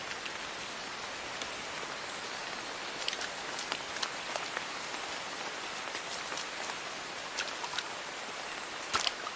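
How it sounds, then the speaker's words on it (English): Torrential rainforest rain filters through layers of canopy leaves as a dense, steady patter of drips, with a few sharper drops standing out near the end and no voices. "Under the shelter of layers of leaves, the deluge is reduced to drips."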